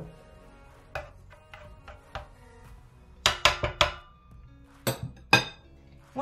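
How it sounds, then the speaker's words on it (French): A knife chops meat on a cutting board in sharp, uneven knocks, first spaced singly, then in quick clusters of three or four close strikes, loud and near with no talk. "je finis de couper ma viande"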